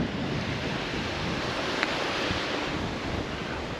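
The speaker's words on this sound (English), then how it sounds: "I do believe that's the Atlantic Ocean, and that is the beach" Atlantic Ocean surf breaking on the beach at Bahia Honda in the Florida Keys, a steady broadband wash of waves with wind noise buffeting the microphone throughout, no voices.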